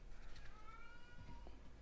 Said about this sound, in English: I hear a cat mewing in the background